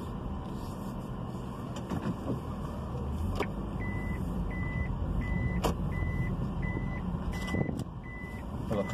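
A vehicle's steady, evenly spaced reversing beeps sound while it maneuvers near São Tomé beach in Campos dos Goytacazes, Brazil, moderately faint under engine rumble and outdoor noise.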